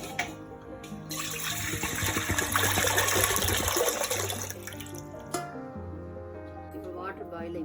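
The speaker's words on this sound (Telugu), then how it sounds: "దీనిలో 2 లీటర్స్ వాటర్ పోసుకొని" About two litres of water gush into a cooking pot for mutton biryani rice, a loud close splashing pour that swells over a few seconds and then tapers to a gentler flow.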